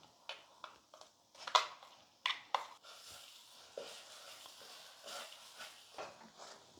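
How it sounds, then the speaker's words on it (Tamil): Spoon scraping and stirring thick moong dal paste with roasted semolina in ghee in a pan, faint irregular scrapes and soft knocks with quiet gaps between strokes. "நம்ம கைவிடாமல் கிளறிட்டே இருக்கணும்"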